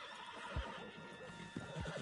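Horse in the video game Red Dead Redemption 2 giving short snorts and brief whinny bursts, faint and fairly close, over a quiet ambient background.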